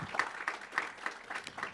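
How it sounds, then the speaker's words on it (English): Audience at a national planning awards event clapping as a speaker takes the podium, a thin, distant patter of separate hand claps, faint and brief. "Can we clap for her as she takes the podium?"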